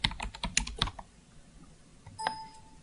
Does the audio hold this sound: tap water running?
no